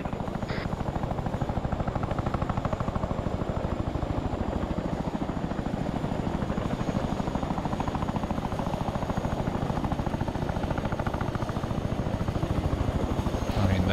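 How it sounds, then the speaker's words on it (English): Constant rapid thumping of helicopter rotor blades with a droning engine during a military exercise, loud and steady throughout. "Helicopters landed"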